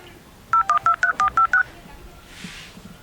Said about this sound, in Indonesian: Coba telepon si Dahlan tah ka dieu.